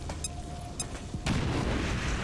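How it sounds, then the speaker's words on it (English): A grenade goes off in the tactical game XCOM: Chimera Squad, preceded by brief beeping game cues and then a sudden, loud, close blast with a rumbling tail, and no one talking. "Throwing grenade."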